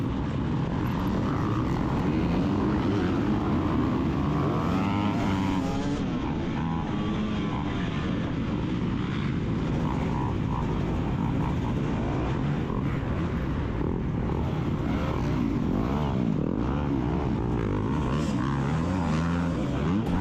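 250cc dirt bike racing in the GNCC Big Buck round, engines droning loud and continuous throughout with shifting pitch as bikes fishtail through a muddy first turn.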